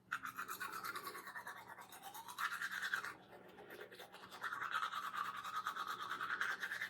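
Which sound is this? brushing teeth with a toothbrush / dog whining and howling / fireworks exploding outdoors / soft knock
brushing teeth with a toothbrush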